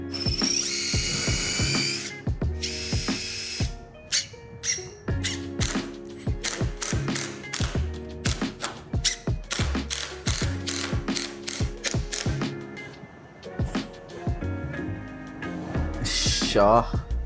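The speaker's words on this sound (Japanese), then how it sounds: "まずこのね、ファイ10のドリルでちょっと穴を開けますね" A power drill with a 10 mm bit boring holes in wood whirs in repeated short bursts, stopping and starting in an irregular rhythm, loud and close.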